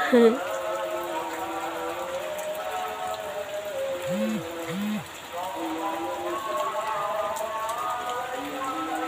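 Heavy rain falling in a village, a steady close wash of drops on surfaces, with tonal chirping calls sounding over it.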